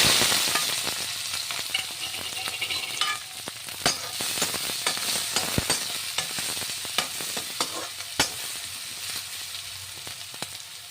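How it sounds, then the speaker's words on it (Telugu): Sliced onions and green chillies crackle and sizzle steadily in hot oil in a pan, close up, with frequent sharp clicks of a spatula stirring against the metal. "ఇప్పుడు ఇందులోనే మనం ఉల్లిపాయ, పచ్చిమిరపకాయలు వేసేసుకుందాం."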